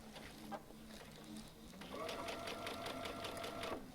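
A Baby Lock Altair sewing machine stitches through a single layer of denim, its rapid rhythmic needle chatter rising after a quieter start and running steadily for a couple of seconds, close and moderately loud.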